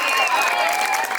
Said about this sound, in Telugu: సో అందరూ ఒకసారి గట్టిగా క్లాప్స్ వెల్కమ్ పలకండి.